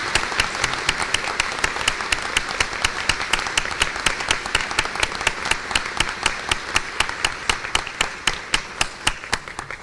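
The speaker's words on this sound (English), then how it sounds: "let's start with a round of applause for those people first" Audience applause at a college presidential inauguration, a steady wash of clapping with one close, loud clapper beating a regular rhythm throughout.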